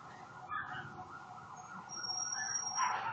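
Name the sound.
sirens in the background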